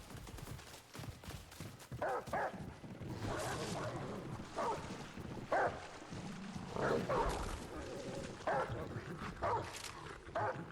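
A dog companion in the game Remnant: From the Ashes barks repeatedly in short yips and woofs amid combat noise and game effects, fairly close and recurring every second or so.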